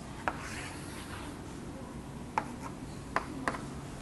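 Field lines are drawn on a board during a physics lecture: a few faint, brief strokes scattered over a few seconds in a quiet room, with no talking.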